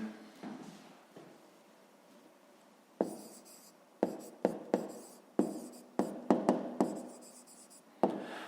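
A pen writing an answer by hand on paper: a soft scratch at first, then a run of short, crisp strokes and taps at an irregular pace, close and fairly quiet.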